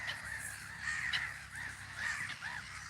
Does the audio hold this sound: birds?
yes